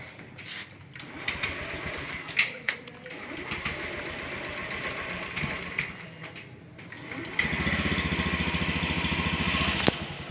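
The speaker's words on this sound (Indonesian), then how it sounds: "motor sudah nyala ini ya" A motorcycle engine with fuel injection starts and settles into a steady idle, its dense, even rhythm close and loud, after a stretch of softer mechanical rattling. No one speaks.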